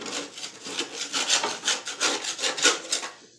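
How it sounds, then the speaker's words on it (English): A thin-bladed metal scraper scrapes caked grass clippings off the underside of a push mower deck in rapid rhythmic rasping strokes, close and fairly loud, ending abruptly. "What I find works real well is a thin bladed metal scraper. It conforms to the curves of the deck"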